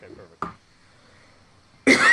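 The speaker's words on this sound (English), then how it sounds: "Gotta clear my throat for this one." A man clears his throat twice at close range, a short burst early and a louder, rougher one at the end, with soft talk at the start.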